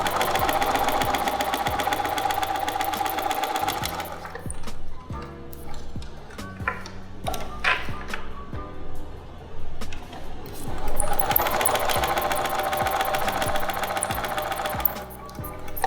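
Sewing machine stitching fabric, a fast steady mechanical whir of the needle running loud and close, stopping in the middle for a few seconds of clicks and handling while the fabric is pivoted, then stitching again.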